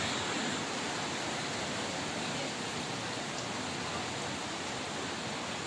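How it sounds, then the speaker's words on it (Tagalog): Heavy, unbroken rain pours down during Typhoon Karina, a dense steady hiss with no pauses, close and loud, with no voices present. "Lalo pang lumalakas ang ulan."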